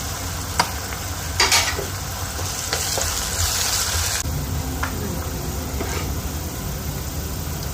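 Fennel and nigella seeds frying in hot oil give a dense, steady sizzle, broken by a few scraping stirs of a spoon against the pan, close and unbroken throughout.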